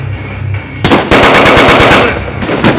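Rapid machine-gun bursts in a large battle reenactment at the Arsenal factory, loud and close, a fast rattling string of shots after a quieter lead-in, then a further short burst.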